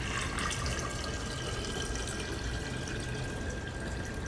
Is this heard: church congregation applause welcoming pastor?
no